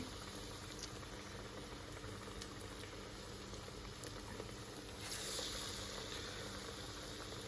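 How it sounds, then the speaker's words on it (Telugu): Vadas frying in oil give a soft, steady bubbling sizzle, quiet and continuous, with a brief brighter hiss partway through. "ఈ వడలు వేగే లోపల"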